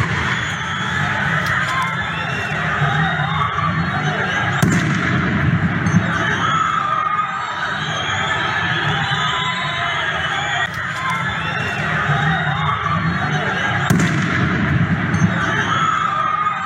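Tear gas canisters are fired at protesters during a street demonstration as it is dispersed. A few sharp pops cut through a constant loud roar of crowd noise and shouting.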